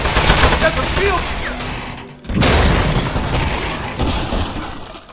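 A toilet gun firing at a metal boss in the video game Aperture Desk Job: loud, dense rapid-fire shooting with clanking impacts, cut by a brief gap before the barrage resumes.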